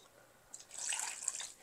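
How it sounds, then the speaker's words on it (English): Water is poured into a plant tray so the pots soak it up from the bottom, a brief splashing trickle that swells and then eases, close and fairly soft. "I'm also going to go ahead and throw in this extra water and allow that to soak up from the bottom"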